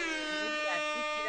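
A handheld air horn gives one continuous, loud, buzzy blast during a casual band chat, heard on its own without talk.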